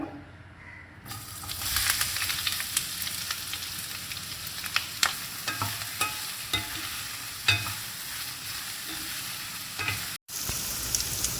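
Onions, green chillies and curry leaves sizzle steadily in hot oil, with occasional stirring scrapes and clicks, close up and without talk.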